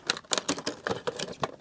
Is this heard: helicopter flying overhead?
no